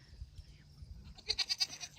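A goat gives a quick series of about five short, rhythmic bleats, fairly near and moderately loud, after a quiet stretch with faint background noise.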